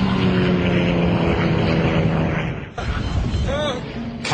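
A propeller airliner roars loudly in a dramatized crash reenactment as it rolls left and begins falling, a steady heavy drone that briefly dips before a rising whine and continued engine noise.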